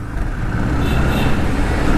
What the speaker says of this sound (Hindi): और गाड़ी की आवाज़ सुनिए जरा